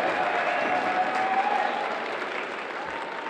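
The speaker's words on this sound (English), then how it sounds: "How about a round of applause down here for Mr." At a high school holiday assembly in a gym or hall, the audience claps for a teacher, Mr. Horsley, with even, rattling applause heard from a moderate distance that gradually softens.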